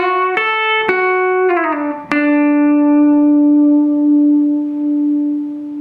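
A slow solo lick on electric guitar: a few picked notes with a slide down, the last note sustaining and ringing out alone, close and clear.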